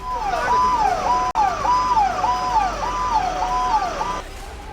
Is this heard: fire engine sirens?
yes